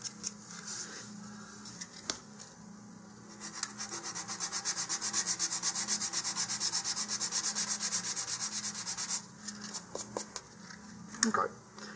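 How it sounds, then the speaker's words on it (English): Sandpaper scrubs a model rocket body tube to roughen it for a launch lug, a quick, steady run of scratchy strokes in the middle, framed by quieter handling noises and a few knocks. "I will go ahead and also roughen the area where the launch lug is going to be"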